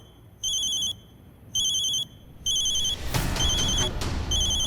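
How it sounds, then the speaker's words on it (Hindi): An electronic phone ringtone repeats in clear beeping bursts, three rings with short gaps, then continues over rising background noise in a domestic indoor scene. "मेरी माँ का फोन है।"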